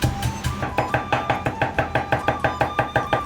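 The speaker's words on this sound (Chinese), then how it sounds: "生姜准备1小块，撇破剁成姜饼" A knife chops a small piece of smashed ginger on a cutting board in a steady, fast rhythm of about five close, crisp strokes per second, with no talking.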